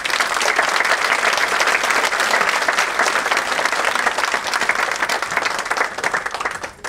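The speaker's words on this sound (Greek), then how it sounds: "γι' αυτό αξίζει να τα χειροκροτήσετε" Loud, sustained applause from an audience honouring Byzantine church chanters, a thick, unbroken roar of many hands clapping that holds steady for about seven seconds before easing off slightly at the end.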